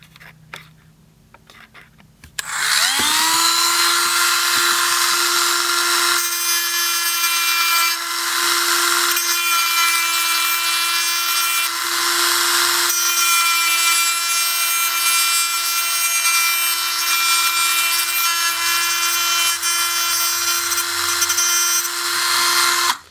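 A rotary cutting tool grinds down a piston tooth on a gearbox, whining loud and steady near the mic after a brief start, running continuously.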